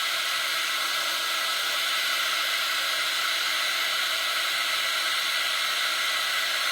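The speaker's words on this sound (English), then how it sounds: "get an embossing heat gun. So I'm just going to start it over here. It's quite loud." An embossing heat gun runs steadily throughout, a loud, constant blowing whir like a hair dryer, close to the microphone, with no talk over it.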